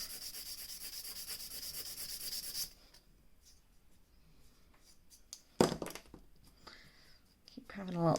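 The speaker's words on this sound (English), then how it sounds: "So I'm going to focus my filing on this section just for the minute." An acrylic nail is filed down by hand, with a steady, close rasping rub for the first few seconds that fades into quieter scratches and a few sharper brushing strokes.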